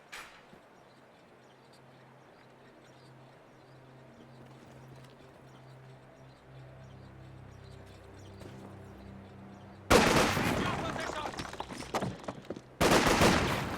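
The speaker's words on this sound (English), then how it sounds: "Just one volley from this Folks Grenadier squad seems to get the job done" Rifle volley from a Volksgrenadier infantry squad in a World War II strategy game, bursting in as two loud, dense clusters of shots after a long stretch of faint, low battle ambience.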